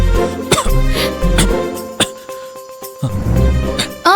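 Several sharp coughs from someone choking on cake, in short bursts, close and loud, with brief voice sounds and a small clink between them.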